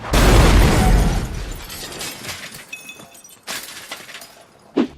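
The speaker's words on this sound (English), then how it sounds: "ends up crashing into another car" A loud crash opens as one car slams into another on a dirt road in the horror film Wrong Turn, with a shattering impact of breaking glass and metal that decays into scattered debris and ends on a sharp late thump.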